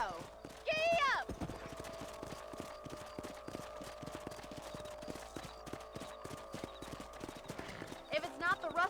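Steady clip-clop of a galloping horse in the Western video game Red Dead Redemption, rhythmic hoofbeats running throughout, with a whinny near the start and another toward the end, a rider's voice briefly heard over it.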